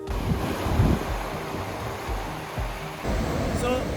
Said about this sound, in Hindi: अभी हम कुंड मलीर बीच पर हैं, समंदर हमारे साथ है